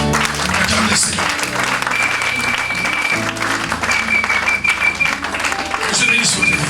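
Church congregation applauding loudly and steadily throughout, a dense wash of clapping over music and voices.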